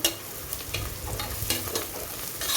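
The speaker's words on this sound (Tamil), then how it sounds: "வெறும் மிளகாய்த்தூள் நான் இந்த எண்ணெயிலே சேர்த்துக்கிறேன்" Chili powder goes into hot oil in a pan and is stirred while it sizzles, a soft continuous frying hiss with scraping spoon strokes, close and fairly quiet, during preparation of tomato rice.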